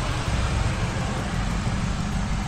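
A steady low engine rumble with a constant broadband hum: a 2003 Ford SVT Lightning pickup truck idling up close, fuel injectors audible, with no pauses or voices.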